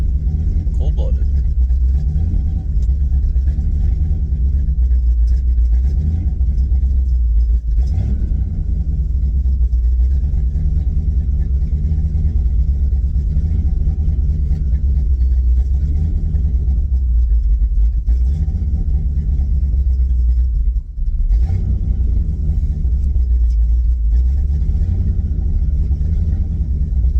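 A Buick 350 V8 car engine idles steadily with a loud, continuous low rumble, close up, holding a constant drone for the whole stretch with one brief dip near the end.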